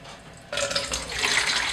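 Tap water suddenly starts running and keeps flowing steadily into a developing tank to rinse black-and-white film, a broad close splashing hiss after a brief quiet moment.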